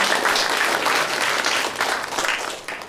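A stand-up comedy audience breaks into dense, loud applause, many hands clapping at once before tapering slightly toward the end.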